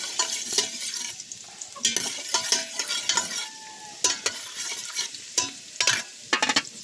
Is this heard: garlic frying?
yes